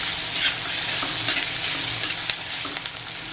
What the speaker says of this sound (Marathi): व्यवस्थित तेलात असा फ्राय करून घ्यायचा कांदा